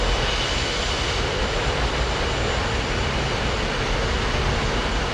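Steady, loud jet engine roar of an F/A-18 in the DCS flight simulator during a carrier-style landing approach with gear, hook and flaps down, a broad continuous rumble holding throughout without talk.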